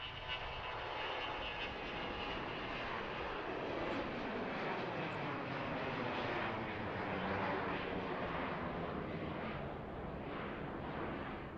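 An airplane passes at Harrisburg International Airport, a steady, distant jet roar whose pitch sweeps slowly downward as it goes by, heard alone and fairly faint throughout.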